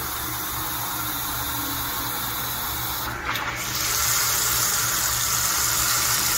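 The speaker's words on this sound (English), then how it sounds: "we should get some water coming out of here" Water rushes steadily from a tap after a Bosch Tronic 3000 T ES 2.5 electric water heater is refilled, a constant hiss with a brief sputter midway before the flow strengthens and continues.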